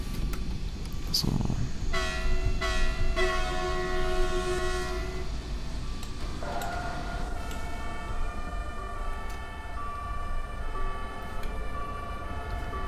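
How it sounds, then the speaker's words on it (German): Emergency vehicle sirens, including an ambulance and fire engines, wail in the Train Simulator 2020 railway game, layered tonal sirens sounding steadily over low train rumble while someone talks. "Man hört schon die Sirenen. Krankenwagen ist auch da."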